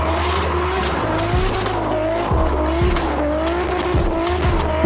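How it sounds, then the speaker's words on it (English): A Toyota Mark II Tourer V sedan with a 1JZ-GT inline-six drifts, its tires squealing in long wavering wails over a loud, steady engine roar, with continuous sound throughout. "Look at that, how beautiful it looks when it's drifting."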